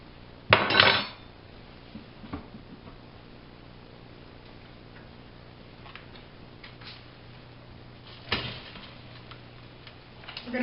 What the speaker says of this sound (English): We're going to stick it back on the stove, and then once it's drained for a minute,